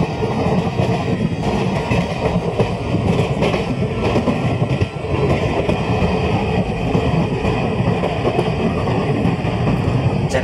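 Nizamuddin Rajdhani Express running on the Chennai line, a steady, loud, close rumble of wheels and carriages with a faint rhythmic clatter, continuous for the whole stretch.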